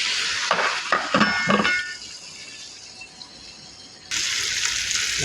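Chicken broast frying in oil while being stirred, with loud scraping clatter of a utensil against the pan at first, then a quieter steady sizzle, and the frying surging louder again near the end.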